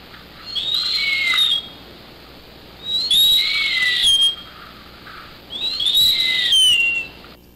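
Raspy, degraded song of a deafened songbird, three separate bursts of complex whistled syllables with a rough, noisy edge, each lasting about a second and a half with short pauses between them, heard clearly with no talk.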